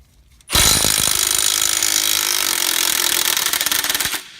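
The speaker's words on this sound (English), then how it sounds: "we'll continually spin that bolt and it'll clean out the bore in there also for us" A power tool spins a strut bolt out of a 2001-2012 Ford Escape front suspension to clean the bore. It gives a loud, close, rattling whirr that starts abruptly and runs about four seconds before cutting off.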